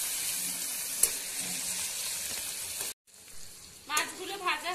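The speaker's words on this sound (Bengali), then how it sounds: "চিংড়ি মাছগুলো হালকা করে ভেজে নেব।" Prawns fry lightly in oil with a soft, steady sizzle at close range, broken by a short silent gap, then a faint voice talks briefly over the continuing crackle.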